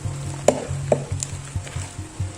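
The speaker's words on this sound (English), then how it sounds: "We're just going to mix it all again until it's combined." Healthy oatmeal cookie dough with baking soda is stirred in a bowl, giving soft rhythmic scraping and thudding strokes with a couple of sharper knocks, close and alone.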